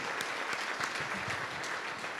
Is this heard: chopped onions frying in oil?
no